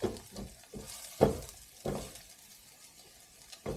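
Eggs are stirred and scrambled in a non-stick pan over medium heat for chilaquiles, with soft sizzling under irregular scraping and tapping of the utensil, no voices.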